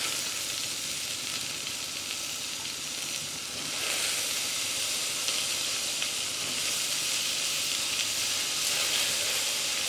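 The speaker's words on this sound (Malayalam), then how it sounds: "പച്ചക്കറികളെല്ലാം ചേർത്തതിന് ശേഷം സ്റ്റവ് ഒരു മീഡിയം ഫ്ലെയിമിൽ വെച്ച് 2-3 മിനിറ്റ് നന്നായിട്ട് വഴറ്റി കൊടുക്കണം" Mixed vegetables sautéing in oil in a pot on a medium flame for vegetable kurma, a steady close sizzle and fry throughout with no talk.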